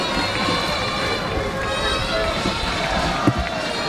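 A crowd applauds a retiring water jousting champion at the lagoon of Thau, a dense, steady wash of clapping and cheering that holds for the whole stretch, with a brief sharper burst near the end.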